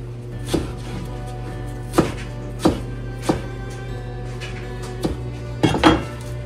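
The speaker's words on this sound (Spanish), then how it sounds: "ahora voy a rebanar la lechuga" A knife slices lettuce on a board in a kitchen, with about eight sharp, distinct knocks at irregular intervals over a steady background hum, close and fairly loud.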